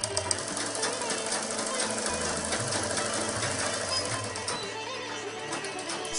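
A tailor's sewing machine runs steadily in a workshop, a continuous fast mechanical rattle with a low motor hum throughout.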